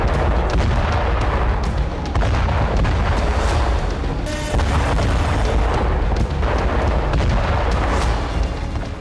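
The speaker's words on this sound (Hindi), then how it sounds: "ईरान की गैस पाइपलाइन पर कुछ इस तरह से विस्फोट हुआ।" A gas pipeline explosion in Iran: a continuous roaring rumble with repeated heavy booms and bursts, loud and sustained like a large fire-driven blast.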